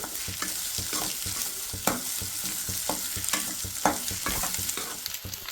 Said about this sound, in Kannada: ಈರುಳ್ಳಿ ಒಂದು 2 ನಿಮಿಷ ಬಾಡಿಸ್ಕೊಳ್ಳಿ.